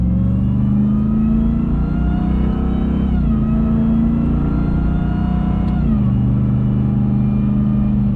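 A 2022 Ram TRX pickup's 6.2-liter supercharged V8 roars close and loud, its deep steady rumble climbing in pitch through several rising revs with shifts near three and six seconds, no talk.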